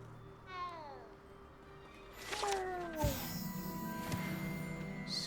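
Several meows from a cat in Hogwarts Legacy, rising and falling tones over a steady game ambience, with a louder yowl near the middle and soft background chimes.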